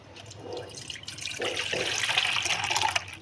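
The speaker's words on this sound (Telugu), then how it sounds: "ఇప్పుడు ఒక బౌల్లో మనం పాలు కట్ చేసుకుని పోసుకుందాం" Thick creamy milk pours into a bowl in a home kitchen, a steady splashing, gurgling stream that builds and continues for a few seconds, close by with no talk.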